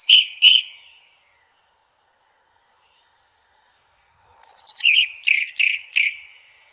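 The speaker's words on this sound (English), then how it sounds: "And in this case, we say bird chirping." Synthetic bird chirps: two quick whistled chirps at the start, then a pause, then a rapid burst of bright, close tweets and trills alone against silence.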